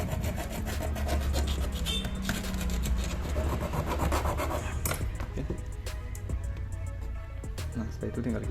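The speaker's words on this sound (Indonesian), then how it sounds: "Ini kita potong menggunakan kikir, bisa juga menggunakan gergaji besi ya guys ya" Copper tube being cut with a hand file, a close rasping scrape repeating in quick back-and-forth strokes, loudest early and thinning into scattered clicks and taps toward the end.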